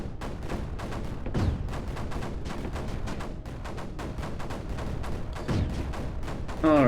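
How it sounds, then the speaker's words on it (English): Cannons firing in the strategy game Creeper World 4, a dense rapid series of short thumping shots in a steady rhythm, with a few heavier booms standing out and a louder burst at the end. "Probably need a few cannons thrown in though."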